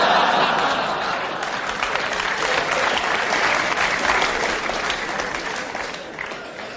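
Live comedy show audience breaking into loud, sustained applause with scattered cheers, a dense wash of clapping that tapers off near the end.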